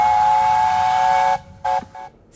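A steam locomotive on a UK heritage railway sounds a loud, sustained whistle for over a second, followed by two short blasts, close and clear over a low rumble.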